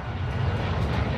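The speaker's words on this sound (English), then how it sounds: "I'm gonna go grab this chopper." A helicopter in Call of Duty Warzone 2 gives off a loud, steady engine roar and rotor drone that stays close and constant throughout.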